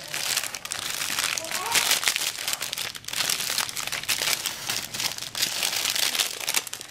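A plastic bag coated with tacky Mod Podge crinkles and rustles steadily as it is handled up close, with a voice heard now and then.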